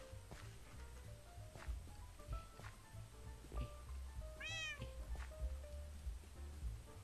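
A cat in the Minecraft Bedrock Edition game gives one clear, rising meow amid soft background music and faint footsteps.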